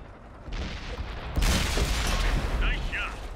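Tank cannon fire in the World of Tanks video game: a heavy boom bursts in at about a second and a half and rolls into a loud, sustained rumble, with gunfire-like crackle layered through the game mix.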